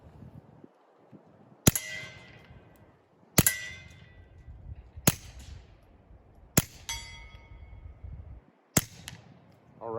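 A Smith & Wesson 22 Compact pistol fitted with a Rugged Mustang suppressor fires five evenly spaced, sharp muffled shots, each followed by a brief metallic ring, with low outdoor rumble between them.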